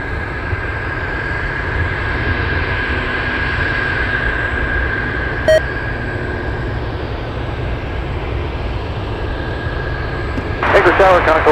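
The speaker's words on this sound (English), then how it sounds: "let's go for China Airlines Big 747." A China Airlines Boeing 747 jet at Anchorage airport gives a steady, distant, broad roar that holds level throughout, with a brief click midway and a louder rumbling swell near the end.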